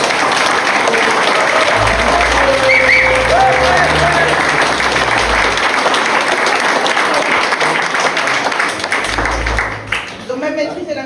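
An outdoor aperitif gathering in Luchon breaks into sustained, dense applause from the audience, steady and loud for about ten seconds before thinning out, with voices talking over it.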